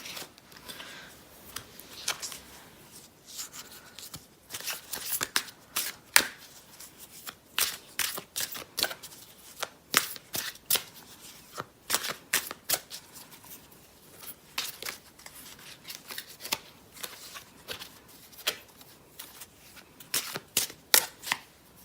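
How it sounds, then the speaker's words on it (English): Tarot cards being shuffled over and over, a rapid papery riffling and snapping that comes in bursts with short pauses, close and fairly quiet, no talking. "just going to do some shuffling for you"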